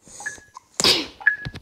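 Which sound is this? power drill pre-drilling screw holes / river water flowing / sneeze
sneeze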